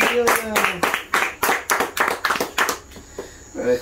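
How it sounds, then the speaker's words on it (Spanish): A small group of people clap together for elderly doña Leona after her operation, a burst of close, uneven handclaps lasting a few seconds and tapering off, with voices speaking over the start. "¡Aplauso para doña Leona!"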